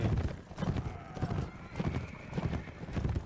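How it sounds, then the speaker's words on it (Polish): Horses gallop and neigh during a castle siege in the Mount & Blade video game, a steady rush of hoofbeats with repeated whinnies, loud and close, with no speech over it. "Uwa, szaleją. Ci konie."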